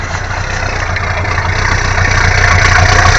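A 1976 Chrysler Cordoba engine idles steadily close by, a rough, even rumble from the exhaust that grows slightly louder toward the end.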